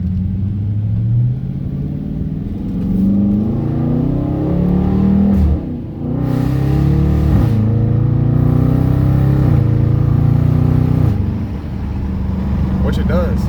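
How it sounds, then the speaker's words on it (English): A 2017 Dodge Challenger R/T with newly fitted paddle shifters pulls hard through its gears, heard from inside the car with the window down. The loud engine note climbs, drops at each shift, then climbs again, with steady wind rush underneath. "Not sure how well you can hear the car, so I'll roll down the window."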